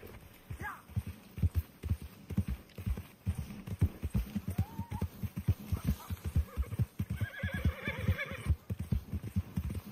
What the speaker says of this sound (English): now we spawn back in at camp, call Fried Horse